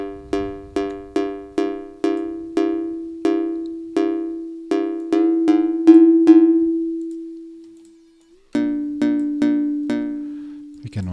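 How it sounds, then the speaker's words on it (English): Synthesized mallet-like tone from physical modelling, struck repeatedly in quick decaying hits at a steady pitch, pausing once for a long sustained note and silence before further strikes resume, loud and close. "we will soon get something that sounds like a mallet"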